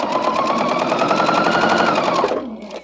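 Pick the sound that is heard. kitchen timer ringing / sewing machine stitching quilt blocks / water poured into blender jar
sewing machine stitching quilt blocks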